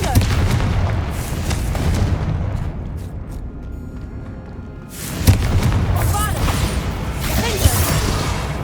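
Confringo fire spell blasting in Hogwarts Legacy, a loud boom with a rushing whoosh that swells again midway, dense and close over game ambience and music.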